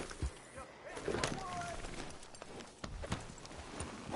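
Hoof clip-clops from a horse in Red Dead Redemption 2 sound faintly amid busy background noise and some voices, a few scattered beats rather than a steady gallop.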